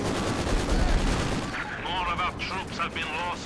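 Bursts of gunfire and explosions in a Company of Heroes 2 2v2 match rumble loudly at first, then continue under a commentator's voice.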